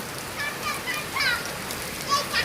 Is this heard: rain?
yes